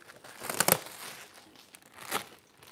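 Plastic wrapping crinkles and crackles as it is peeled off new Vee Tire E-Huntsman enduro e-bike tires for a Super73, with a sharp burst near the start and another a second and a half later.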